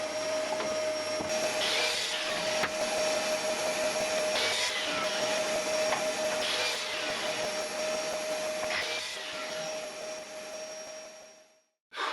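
A power saw with a small cross-cut jig makes repeated cuts for adjustable tool shelves, a steady loud motor whine that surges with each pass before winding down near the end.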